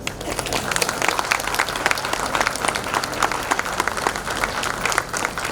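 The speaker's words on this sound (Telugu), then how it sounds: "ఒక్కసారి భగవంతుడి తలుచుకొని చప్పట్లు కొట్టండి" An audience at a yagam, a Hindu fire-ritual gathering, claps hands together in a dense, steady, fairly close burst of applause that carries on without a break, with no talk over it.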